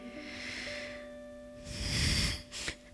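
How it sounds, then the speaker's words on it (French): A child sniffs with a couple of quick, close nasal inhalations over a soft background of sustained musical tones, part of a musical reading. "l'enfant renifler."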